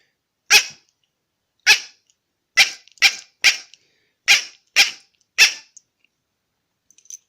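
An Acme crow call blown to imitate a jackdaw gives eight short, sharp, loud calls at close range in an irregular series, and no one speaks.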